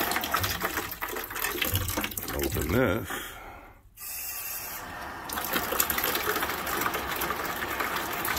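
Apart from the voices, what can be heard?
water flowing after opening plumbing valve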